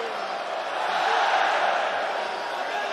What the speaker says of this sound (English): The Coca-Cola Arena crowd loving the work from Usman Nurmagomedov.